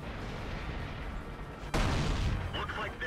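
An M48A1 tank cannon fires in World of Tanks: one sudden heavy boom partway through cuts across a dense rumbling engine bed, followed by a short ringing tail.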